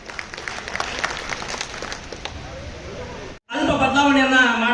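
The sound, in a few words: audience applause for the KMA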